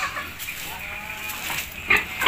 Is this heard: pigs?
yes